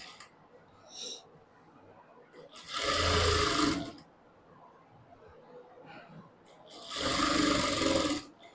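A sewing machine stitching a circular palazzo pant runs in two loud bursts of about a second each, separated by quieter pauses with faint handling sounds.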